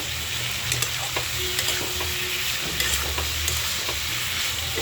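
Potato and cauliflower being stir-fried in a pan, a dense, steady sizzle with light intermittent clinks of a spatula, close-up and fairly loud, no talking.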